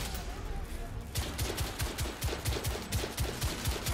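Rapid gunfire in the video game The Order 1886, a steady run of loud repeated shots and bursts with constant battle noise behind them.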